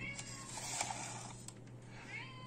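A house cat meows indoors, a few drawn-out wavering cries near the microphone over a steady electrical hum, with no talking.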